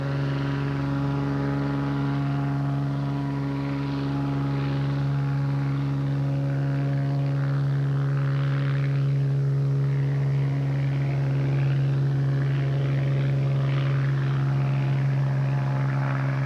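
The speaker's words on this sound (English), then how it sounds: "As your plane takes off from the busy Juneau harbor, you can't help but be filled with the anticipation" Propeller bush plane taking off from the busy Juneau harbor in Alaska, a loud, close, steady engine and prop drone that holds evenly throughout with no voices.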